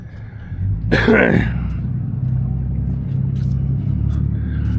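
A van rumbles past nearby, a low engine drone that swells briefly and lingers in the background, with a voice calling out over it.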